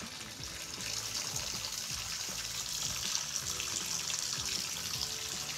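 Water runs steadily from a Delta faucet fitted with a T17 cartridge, a constant close hiss of flowing water with no pauses and no voices.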